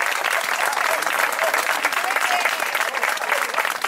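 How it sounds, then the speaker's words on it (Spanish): Sustained, dense applause fills a hall during an evening of song, music and poetry recitation, with a crowd clapping loudly and evenly throughout, honouring a family. "pediría un fortísimo aplauso para la familia Bermejo en gratitud de ellos"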